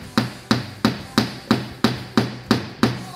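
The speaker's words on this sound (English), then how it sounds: "make sure when you're hammering that you're going straight up and down" A hammer driving a nail into wood for a string art piece, nine sharp, evenly spaced strikes about a third of a second apart, each ringing briefly before the next blow.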